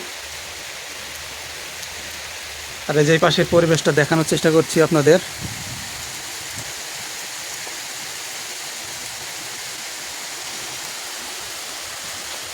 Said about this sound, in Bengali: তো বৃষ্টি এসে গেছে, আমরা এখানে দাঁড়িয়ে দাঁড়িয়ে ভিডিও করছি।